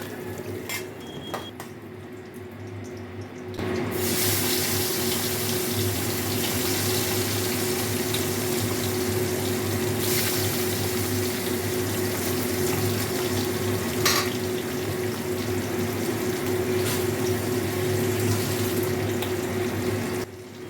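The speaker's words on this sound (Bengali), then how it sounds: "এদিকে মাছটা ভাজা হতে থাকুক" Tangra fish frying in a pan over lowered heat, giving a steady, continuous sizzle and hiss close by, with a few faint clinks of utensils near the start before the frying settles into an even roar.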